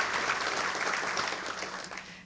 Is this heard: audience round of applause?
yes